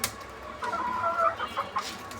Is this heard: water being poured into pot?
no